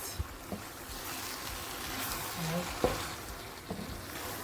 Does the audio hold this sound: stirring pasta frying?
yes